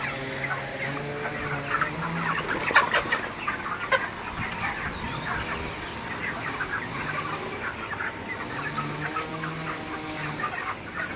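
A flock of broiler chickens clucking and murmuring nearby, overlapping calls rising and falling steadily throughout.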